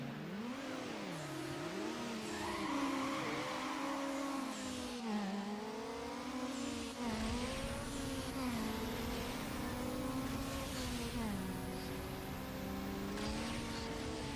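Car engine revving hard with tire squeal in the Need for Speed Underground racing game, a continuous loud engine note rising and falling through gear changes, with squealing tires layered over it.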